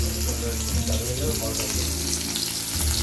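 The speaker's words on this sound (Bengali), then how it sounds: "আলু ভাজতে বসিয়ে দিয়েছি" Potatoes fry in a pan with a loud, dense sizzle that stays steady and close throughout, with a watery, bubbling texture and no speech.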